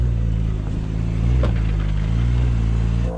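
A Porsche engine drones steadily under load while the car crawls over off-road ground, with a slight swell in revs midway, a few clatters from the body and no talk.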